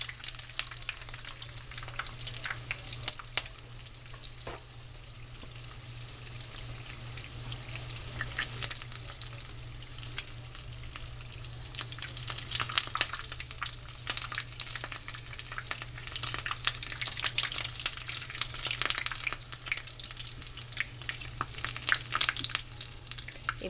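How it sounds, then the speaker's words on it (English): Rolled taquitos of canned chili verde crackle and bubble in hot fryer oil, a steady close sizzle that grows slightly louder and busier toward the end, with no talking. "And fry that up."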